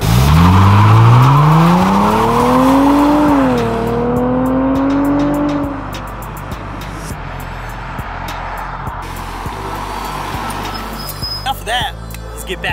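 A BMW accelerates hard from a standstill, its engine climbing loudly through rising revs with a gear change partway, then fading into road and tire noise as the car cruises on; people talk over it.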